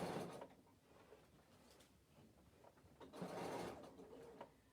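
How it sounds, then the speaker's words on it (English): A sewing machine runs in bursts while stitching a reinforcing square onto a fabric storage bag, with a near, steady whirring that pauses and restarts with no talk. "I'm going to sew a square to make sure it's nice and strong."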